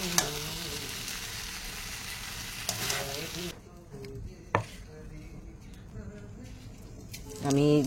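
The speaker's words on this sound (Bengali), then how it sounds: "আর এই যে পেঁয়াজ কুচি আর কাঁচা পাকা লঙ্কা একসাথে দিয়ে এটাকে ভালো করে ভেজে নেব।" Chopped onion and green chillies fry in hot oil in a pan for a Bengali okra dish, a steady close sizzle with occasional stirring clanks and a person speaking over it.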